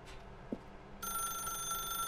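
Telephone in The Stanley Parable begins ringing after a quiet moment, an electronic bell tone that rings steadily and close once it starts, with no voices.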